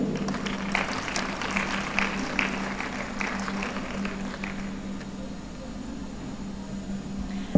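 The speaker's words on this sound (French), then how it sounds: "Un tonnerre d'applaudissements, mesdames et messieurs, pour le président de la République par intérim" An audience applauds the acting president at an official inauguration ceremony, moderate scattered clapping over a steady low hum that thins out toward the end.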